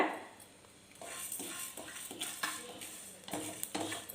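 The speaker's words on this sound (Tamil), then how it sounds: "பச்சரிசி லவங்கப்பூ இதெல்லாம் போட்டு எண்ணெய் ஊற்றாமல் வறுத்து எடுத்துக்கலாங்க" Raw rice with cloves, pepper and fennel dry-roasting in a pan without oil, with repeated scraping and stirring strokes and light rattling of grains against the metal, close and fairly quiet, no talking.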